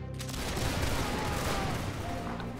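An infantry musket volley fired on command in a video game, a dense, crackling fusillade of overlapping shots that swells quickly and rolls on steadily for a couple of seconds with a noisy, echoing battlefield tail.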